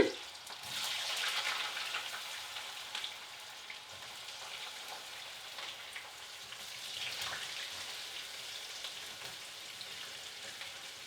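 French fries frying in hot grease for Peruvian lomo saltado, a soft continuous crackling sizzle like light rain with gentle swells in intensity, fairly quiet and uninterrupted by speech.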